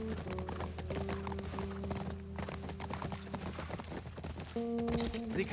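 Horses in The Last of Us video game trot with steady clip-clopping hooves under a sustained droning musical score, close and continuous, with a brief snort or whinny.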